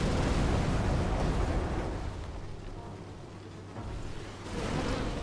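Fire spell in Demon's Souls engulfing a boss, a loud roaring burst of flame that fades into a lower rumble before flaring again near the end.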